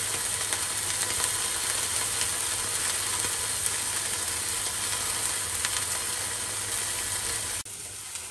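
Meat sizzling while cooking inside a camper van in Japan, a steady crackling hiss with faint pops, close and continuous, stopping abruptly near the end.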